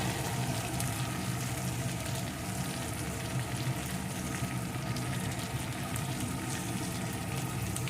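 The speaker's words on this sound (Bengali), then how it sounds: "এখন দিয়ে দেবো পরিমাণ মতো জল" Steady, dense sizzling and bubbling as water hits a hot pan of fried spice paste for a fish and potato curry, a continuous frying hiss with no talking.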